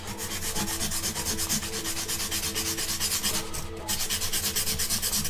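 A charcoal pencil scraped back and forth on a two-sided sandpaper sharpening block, a steady rapid rasping rub with even strokes, close up and continuous for several seconds.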